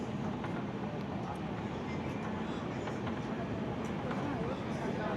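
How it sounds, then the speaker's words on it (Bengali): Train interior during a ride in cold weather, a steady broadband rumble and rattle of the carriage running continuously throughout, with faint voices murmuring under the noise. "ট্রেনে উঠে পড়লাম।"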